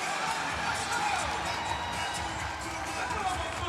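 Dense basketball arena crowd noise, a steady roar of voices and cheering during a men's college game against BGSU, continuous and loud throughout with no clear breaks.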